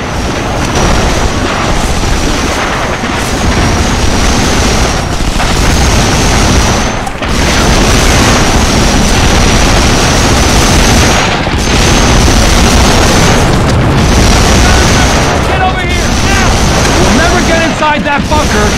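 Loud, dense battle noise from the Medal of Honor: Frontline video game, with heavy booming explosions and gunfire over a constant roar of surf and wind, and soldiers shouting throughout.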